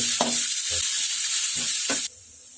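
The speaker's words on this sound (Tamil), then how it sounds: "இஞ்சி நல்லா வெந்து வரட்டும் ஆயிலே." Ginger frying in oil for a ginger pickle makes a steady bright hiss with a few soft scraping stirs, close and constant, before the sizzle drops sharply quieter near the end.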